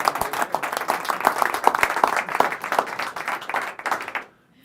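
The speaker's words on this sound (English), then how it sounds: "Give him a big round of applause." Audience applause at a live magic show, a dense burst of clapping from the crowd with sharp individual claps, fading to silence near the end.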